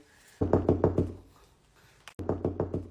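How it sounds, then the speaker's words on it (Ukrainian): Rapid knuckle knocks on a door come in two bursts of about six even raps each, loud and close, separated by a pause. "Ти що не чуєш, що стукають?"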